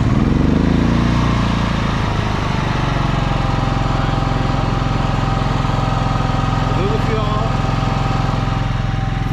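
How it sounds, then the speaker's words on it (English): A GENMAX GM10500iETC tri-fuel inverter generator runs on natural gas with a loud, steady mechanical drone close to the microphone that stays unchanged from start to finish. "I'll back away from the generator. I think it's very quiet."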